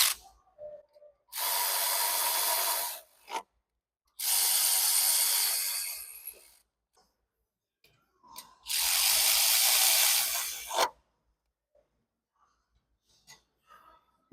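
A 13 mm ratchet wrench turns the three hold-down bolts during a DCR install on a 6.7 Powerstroke, three bursts of rapid clicking ratcheting separated by pauses, close and fairly loud.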